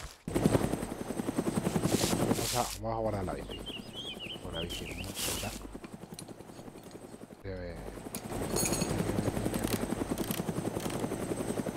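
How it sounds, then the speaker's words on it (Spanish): A small helicopter in the video game DayZ whirs with a continuous rotor chop throughout, moderately loud, while someone speaks over it. "¡Ay, un helicóptero ahí chiquitajo!"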